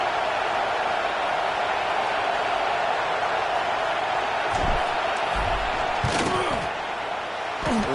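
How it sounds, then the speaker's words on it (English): A stadium crowd roars as a field goal attempt is set up late in a football game, a dense continuous wall of distant cheering with scattered thuds, while a commentator talks over it. "The crowd's going crazy"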